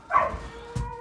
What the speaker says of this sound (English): If you hear that, that's my dog upstairs.